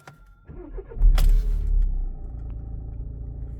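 A car engine cranks and catches at about one second, then settles into a steady low idle rumble close by.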